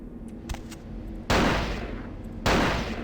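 Two loud, sharp gunshots ring out about a second apart in the video game Vampire: The Masquerade Bloodlines, each with a lingering blast tail, following a stretch of quieter ambience and faint clicks.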